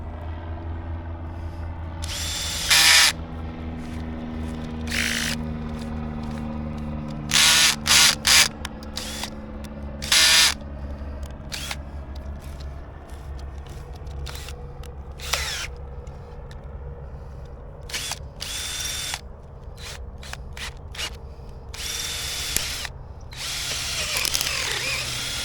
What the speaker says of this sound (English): Now I'm going to drill a hole.